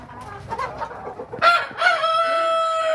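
Hens at a home nest box lined with sacking cluck softly in short bursts, then give a loud, drawn-out, crow-like call close by.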